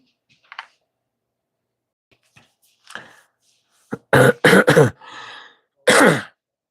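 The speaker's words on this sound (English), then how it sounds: "I feel another hacking coughing session coming on" Several harsh, hacking coughs burst out in a quick cluster, preceded by a few quiet throat sounds and breaths.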